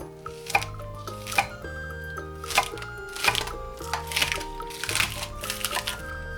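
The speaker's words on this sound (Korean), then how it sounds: "대파 한 줄기를 4-5cm 길이로 잘라줍니다." A knife chops a green onion stalk into 4–5 cm lengths on a cutting board for Spam tteokbokki. Crisp, evenly spaced knocks repeat over soft background music.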